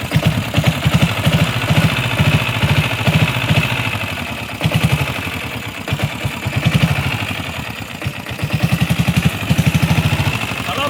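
A 1984 Royal Enfield diesel Bullet motorcycle idles just after a kick start, its steady low thumping putter running throughout, with someone talking over it at times.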